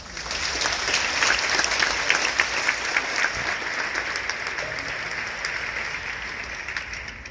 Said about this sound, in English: Graduates, let's give these phenomenal people another round of applause.